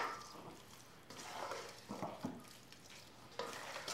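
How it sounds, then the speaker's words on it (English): Cauliflower being stirred in a bowl to coat it, giving soft, wet squishing and scraping bursts that come in uneven pulses and sit close and quiet, with no voices. "I'm just going to stir this around to coat the cauliflower"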